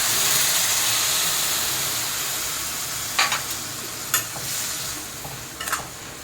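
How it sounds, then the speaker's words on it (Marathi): Buttermilk poured over spiced chillies in a hot pan sets off a loud steamy hiss that gradually settles, followed by a few sharp spatula scrapes and knocks as the mixture is stirred; nobody speaks. "आता आपल्याला ताक ओतायचं आहे या मिरच मिरच्यांमध्ये"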